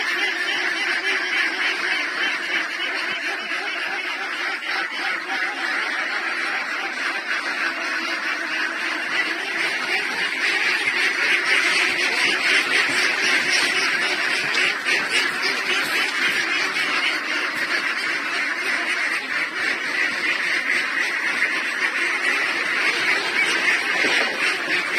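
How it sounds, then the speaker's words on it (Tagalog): Eighteen-month-old laying ducks on a Philippine duck farm fill the air with a dense, continuous chorus of quacking and honking from a large flock, steady and loud throughout with no talk. "yung ating mga itik dito"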